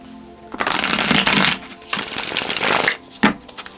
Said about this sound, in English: I keep almost losing the deck while I'm like shuffling it.